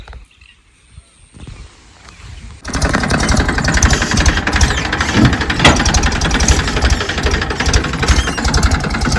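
A tractor in a cotton field starts quietly and then rises into a loud, steady, chugging engine drone that holds on with a rapid mechanical rattle.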